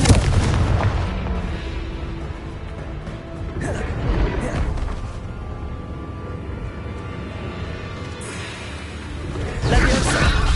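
A Confringo blasting spell from Hogwarts Legacy goes off in loud, booming explosive bursts amid game combat, with a heavy blast near the start and another rumbling impact near the end.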